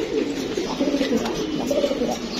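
Old-breed Jabra blue-eye fancy pigeons coo in soft repeated rolling murmurs, close by and continuous over a faint steady background hum.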